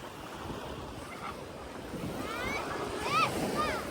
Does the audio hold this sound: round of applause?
no